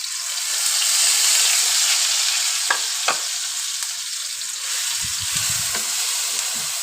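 Ground carrots dropped into hot ghee for gajar ka halwa, a loud sustained sizzle and hiss with a few sharp scraping stirs and clinks partway through, close by and without talk.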